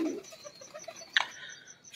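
Old Choisa-breed pigeons coo softly in a breeders' loft, low repeated throaty calls, faint and a little distant, with a brief sharper chirp partway through.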